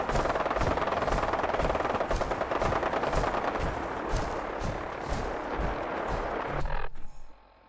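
Gatling laser fire in Fallout 4 crackles in a rapid, steady stream of sharp pulses for several seconds, loud and continuous before cutting off abruptly near the end.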